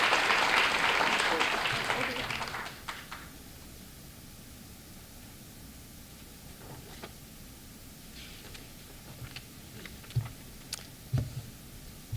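Audience applause at a student awards ceremony, a dense roar of clapping that fades out after about three seconds, followed by a quiet room with scattered small knocks and shuffles.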